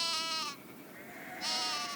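Goats bleat in two loud, harmonic-rich calls, one at the start and one after a short pause, close by with no talk.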